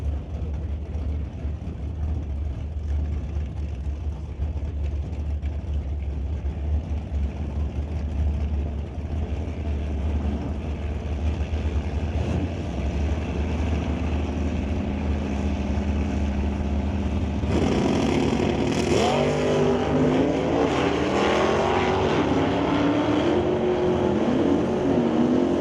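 A 1964 Chevelle drag races at a track, with a steady engine roar from a distance that swells near the end as cars pass closer, louder and more rumbling.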